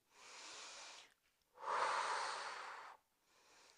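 Breath pushed out in long audible exhales during a Pilates exercise, close to the mic, in two strong breathy bursts and a softer third one with brief pauses between them.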